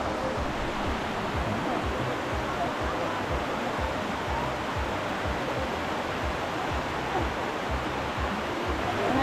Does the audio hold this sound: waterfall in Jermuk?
yes